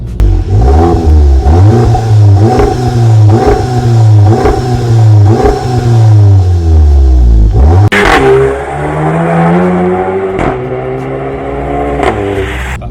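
A Mk7 VW Golf GTI with a stage 1 tune and non-resonated Remus catback exhaust revs hard, about seven rhythmic loud throttle blips, then a long rise and crackles on the overrun, close and loud with no talk.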